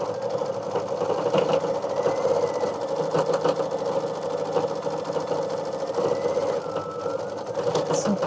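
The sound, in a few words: embroidery machine stitching Kimberbell mug rug design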